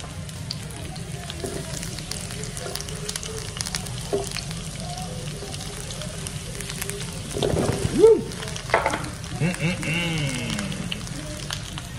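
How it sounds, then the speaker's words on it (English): Mushrooms sizzle in hot oil in a skillet, a steady close crackling hiss throughout with a louder burst of sizzling and stirring near the middle as they are tossed; someone talks over it. "once your skillet gets nice and piping hot, then you wanna start throwing your mushrooms in. Let those things sizzle."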